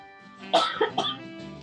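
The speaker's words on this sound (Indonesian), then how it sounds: "masih batuk-batuk, sudah lama sekali nih" A short burst of three close coughs from a lingering cough, the first loudest, followed by a brief pause.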